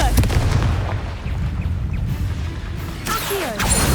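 Confringo fire spell blasts in Hogwarts Legacy: a dense, rumbling barrage of booming impacts fills the whole stretch, with a sharper burst of crackle near the end and no voice.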